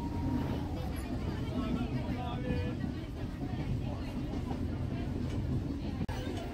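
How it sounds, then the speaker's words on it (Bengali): A crowded local train rumbles steadily as it pulls into Ranaghat station, with continuous loud rolling noise under a babble of passenger voices. "ট্রেন রানাঘাট ঢুকছে"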